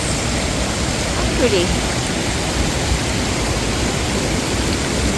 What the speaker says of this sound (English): Okay, waterfall number 2.